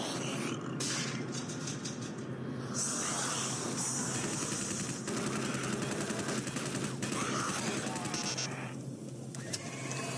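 Gunfire in the shooter Doom 3 bursts out in rapid volleys over a constant mechanical game soundscape, with a voice talking intermittently through the action.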